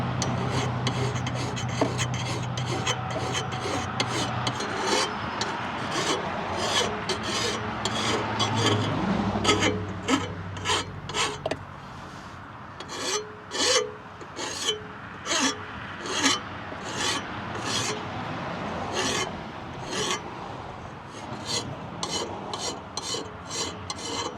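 Metal file rasping over a Toro mower blade damaged by a root strike, a steady run of short scraping strokes, close and fairly loud, with more spaced, distinct strokes toward the end.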